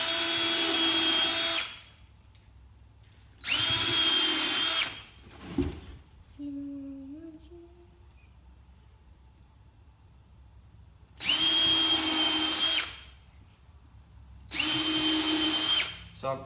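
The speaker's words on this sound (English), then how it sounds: "I drill these so you just have enough for the head of the screw to be flush on the wood or just below flush" Four loud bursts of a power drill fitted with a countersink bit boring holes into a wooden beehive box, each lasting about a second or two, with quiet gaps and faint handling noise between them.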